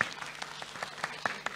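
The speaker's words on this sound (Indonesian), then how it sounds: "Boleh tepuk tangan untuk Mbak Imai?" A thin, scattered round of clapping for Mbak Imai at an Indonesian talk on insurance and the sandwich generation, quiet and brief, with a few sharp individual claps standing out.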